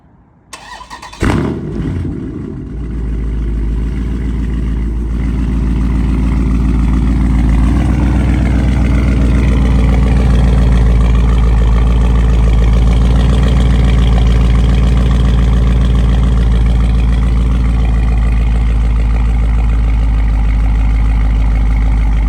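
A Dodge Charger Scat Pack fires up by remote start with a sharp crank and bark, then settles into a deep, loud, steady idle rumble that lasts to the end.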